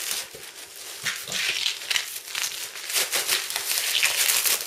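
Plastic packaging crinkles and rustles continuously as a Stoeger RX20 5.5 mm air rifle is unpacked, with dense crackling bursts up close and no talk.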